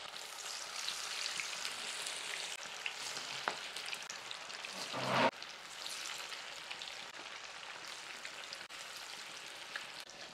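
Chicken 65 pieces deep frying in a full pan of hot oil give a steady, dense sizzle that runs the whole time, with a brief louder bubbling burst midway as a piece drops in.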